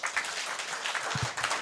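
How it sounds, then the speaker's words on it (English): A short burst of audience clapping at a Ugandan working group annual dialogue, fairly soft and irregular, with a couple of nearer thumps toward the end. "Another round of applause."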